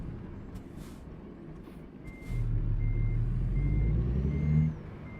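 A truck backing up, its reversing alarm sending out evenly spaced high beeps while the engine rumble swells louder close by, then eases off.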